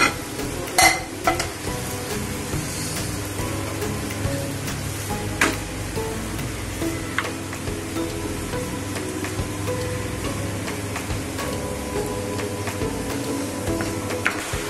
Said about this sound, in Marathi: आपण हे स्मॅशरनी चांगलं मिक्स करून घेऊया।